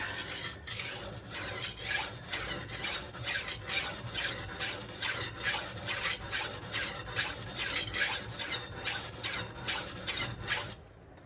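A knife edge drawn over a coarse diamond resin sharpening stone, giving a rhythmic rasping scrape of about twenty regular strokes, close and steady, with no talk.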